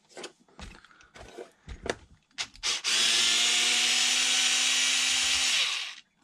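Power screwdriver backing screws out of a HoBao MTX RC car chassis: a few short clicks and bumps, then a steady, close, loud whirring drill run of about three seconds before it winds down.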